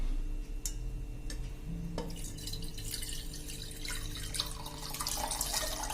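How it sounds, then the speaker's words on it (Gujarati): Fresh green coconut water trickles and splashes as it is poured through a strainer into a glass jar, a steady close stream with a few drips and light clinks at the start and no talk. "જારમાં કાઢી લઉં છું, ગાળી લઉં છું આ પાણીને"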